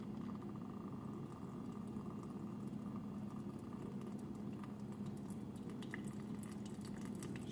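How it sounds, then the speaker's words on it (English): Water trickling through a Sawyer Mini filter on a bag: a faint, steady liquid hiss and patter that stays low and even throughout, with no talking. "now we're gonna start filtering water"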